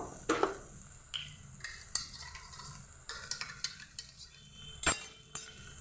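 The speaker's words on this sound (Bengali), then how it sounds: "দিয়ে ভালোভাবে গ্যাসটাকে আস্তে দিয়ে নাড়াতে থাকবে" Yogurt thinned with water being stirred into katla fish kalia masala over low gas, with soft scraping and spoon clinks against the pan, quiet and close, no talk.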